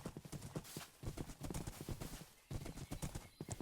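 A horse's hooves clip-clop in quick, irregular steps in Minecraft gameplay, loud and close, with a brief pause midway before the trotting resumes.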